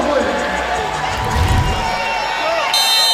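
Crowd of Hawaii fans at a Big West Championship men's volleyball match against UC Irvine, roaring and cheering continuously in a large arena, with a commentator talking over the noise.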